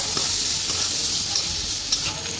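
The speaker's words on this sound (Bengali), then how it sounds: "এবার পেঁয়াজ কুচি ভাজা হয়ে গেছে" Chopped onions fry with a continuous, even sizzle and hiss up close, broken by a few faint stirring ticks.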